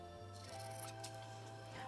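Sewing scissors snipping fabric at the corners while making a child's apron, a few quiet close cuts over a faint steady hum.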